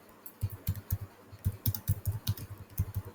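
Rapid keystrokes on a computer keyboard form an irregular run of crisp clicks that continue steadily for a few seconds, close and alone.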